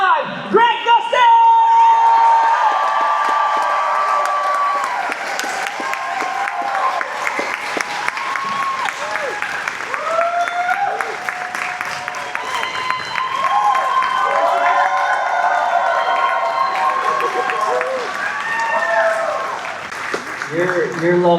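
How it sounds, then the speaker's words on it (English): A large convention crowd applauds and cheers for panel guests, dense sustained clapping with whoops and shouts filling the hall, loud and continuous before fading slightly near the end. "Give a round of applause for Candace Patton and the fastest man alive"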